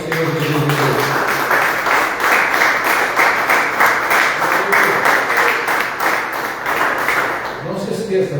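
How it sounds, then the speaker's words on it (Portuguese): Church congregation clapping together during a Lord's Supper service, a rhythmic, fairly loud burst of hand claps lasting several seconds and tapering at the end. "Vamos aplaudir o Senhor Jesus."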